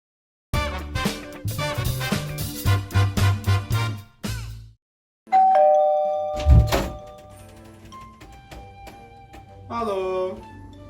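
A man vocally imitates a doorbell with a sung ding-dong, a couple of bright tonal notes following a burst of loud music and thumps, with a short voice exchange afterward.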